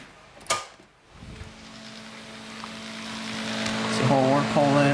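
A small electric motor drawing about 7.7 amps spins up to pump air. After a brief knock it becomes a steady drone that slowly rises in pitch and loudness, with a wavering tone near the end.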